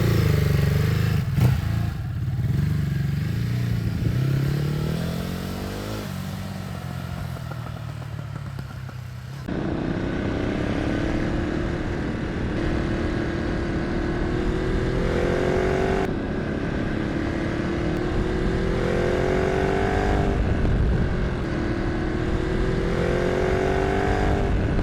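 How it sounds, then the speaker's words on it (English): A Ducati HyperMotard RVE engine revving while being ridden, heard as a loud, close, continuous engine drone that rises in pitch through repeated accelerations, with gear changes interrupting the climb. "riding the tallest Ducati on sale in India"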